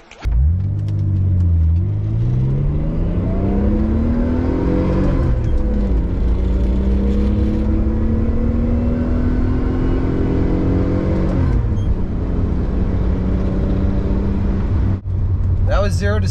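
An old car accelerates hard from a standstill to 60 mph in a speed test on a slight downhill, its loud engine droning and climbing in pitch through several gear changes, with people talking over the noise.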